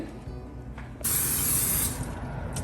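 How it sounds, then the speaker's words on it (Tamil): A short, loud hiss of nonstick cooking spray onto a pan lasts just under a second, following a faint click, with quiet background afterward. "நான்ஸ்டிக் ஸ்ப்ரே பண்ணிவிட்டு"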